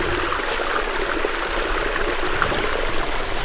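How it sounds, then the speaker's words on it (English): A creek runs steadily near a bridge on a camping hike, a constant rushing, gurgling flow with no voices over it. "This is the creek."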